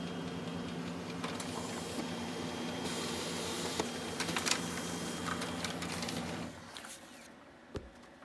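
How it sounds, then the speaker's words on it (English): An HP2035 laser printer runs a test page with a steady mechanical whir and clicking paper-feed sounds, close up, ending with a drop in noise and a couple of sharp clacks. "We're going to print a test page here."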